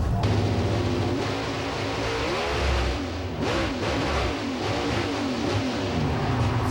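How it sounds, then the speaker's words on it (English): Onboard sound from a Pro Stock drag car at the 2006 NHRA Torco Racing Fuels Nationals, the engine roaring loud and hard and then revving up freely after the car comes out of gear. "Sounds like it came out of gear"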